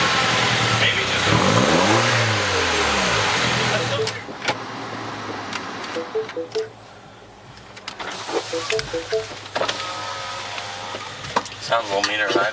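Mini Countryman S R60 with a straight-pipe exhaust revs up and back down in one loud, close sweep, then drops to a rough idle with brief blips while people talk nearby.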